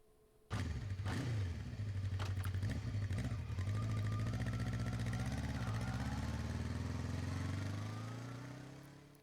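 A video game motorcycle engine starts with a sharp kick, then revs and holds a loud, steady roar with clattering overtones before easing off, with no voices.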